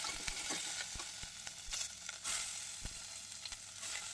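Green chillies drop into hot tempering oil already holding cumin, mustard seeds and curry leaves for moong dal curry, making a steady sizzle broken by repeated sharp crackles and pops.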